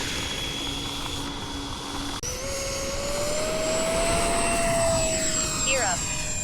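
A Freewing F-22A Raptor RC jet with 90mm electric ducted fans flies in high wind, its steady whine rising and sliding in pitch as it passes, with a continuous rush of wind and a brief pause midway; no voices.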